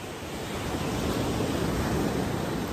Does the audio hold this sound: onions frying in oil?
no